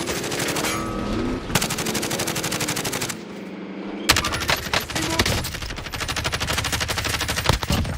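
Rapid automatic gunfire in a first-person shooter video game, long dense bursts of rattling shots, loud and close, broken by a short pause before firing resumes.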